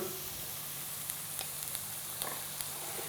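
Frozen spinach added to a pan of sizzling fat for a keto quiche: a constant close hiss of frying with a few small crackles and pops, no voices.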